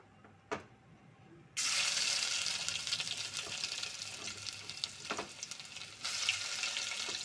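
Onion paste hits hot oil in a pan and starts frying, a sudden loud, continuous hiss and crackle after a quiet start with a single knock, sustained close by with no talking.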